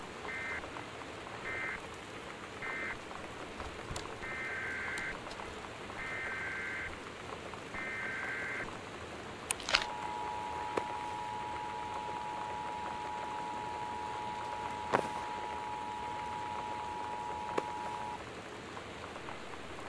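Torrential rain in the video game Gone Home keeps up a constant soft hiss, overlaid by a series of short electronic alert beeps and then a long steady tone, with a few faint clicks.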